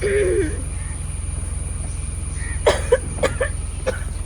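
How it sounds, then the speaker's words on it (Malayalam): A few short, harsh coughs near the end, rising from a steady low hum that fills the whole clip. "എന്ത് സ്വീറ്റ് സൗണ്ട് അല്ലേ വെരി നൈസ് ചുമ"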